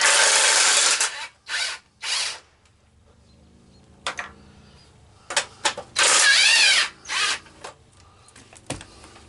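An impact wrench removes bolts on an LT2000 in a series of short, loud bursts of rattling whir, separated by quiet gaps and growing more frequent toward the end.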